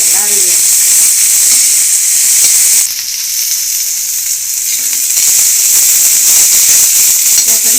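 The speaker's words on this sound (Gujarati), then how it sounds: "બાજુમાં આપણે કોબીજ પણ રાખ્યું હતું, તો કોબીજ પણ અંદર નાખી દઈશું." Cabbage dropped into a hot tawa for Gujarati tawa pulao sets off loud, steady sizzling and frying hiss that dips briefly, then surges again with stirring scrapes, close and continuous.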